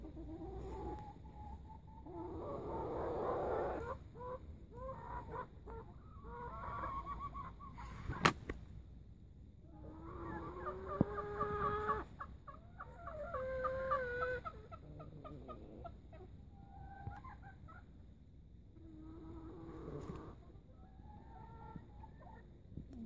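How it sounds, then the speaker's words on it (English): Chickens cluck in soft, scattered bursts in a tropical garden in Europe, fairly faint against a steady background hum, with a few sharp knocks among them. "Just know that's chicken."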